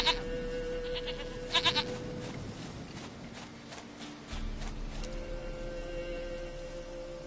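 Short, close bleats from a goat in The Witcher 3 sound over a steady low background hum, with a faint clatter like hooves or footsteps between the calls.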